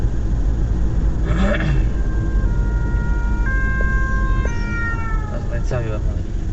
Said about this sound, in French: 2 ambulances.